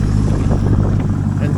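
A 1999 Chevrolet Corvette LS1 V8 with Borla mufflers, automatic, after an engine fire, idling with a loud, steady, close-up exhaust rumble and some wind noise.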